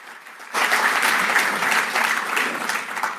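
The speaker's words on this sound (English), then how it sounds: "Let's have a round of applause for these past presidents." An audience at an annual meeting gives a round of applause for past presidents, a dense, steady wash of clapping that starts abruptly and holds at full strength, close and loud.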